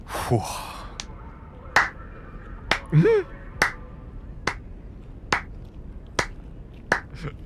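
A single person slowly claps during a tabletop role-playing session, giving about eight sharp, evenly spaced claps roughly a second apart. A brief breathy vocal sound comes near the start and a short squeak follows partway through.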